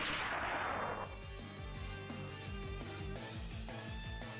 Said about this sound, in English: There's a tremendous crashing explosion sound, and your head rings as a huge wave of energy blasts past you.